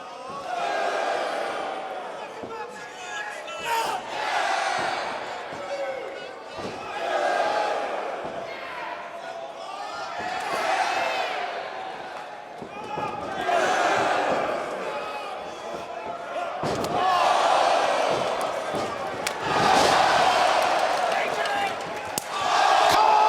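A large Canadian wrestling crowd at a Ring of Honor 18th anniversary show chants loudly in rhythmic surges, each round of voices swelling and fading every few seconds and filling the arena.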